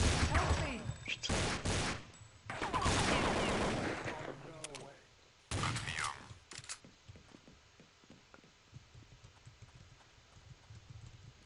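Gunfire in the video game Counter-Strike: Condition Zero on the Havana map, loud bursts of rapid shots clustered early, then fainter scattered reports and footstep-like taps as a voice talks over it.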